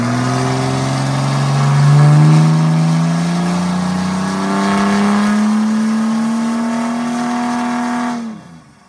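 A Mercedes OM606 diesel crate engine for a Land Rover running on a Superflow dyno, a loud, steady, close drone whose pitch climbs slowly under load before the engine abruptly cuts off near the end.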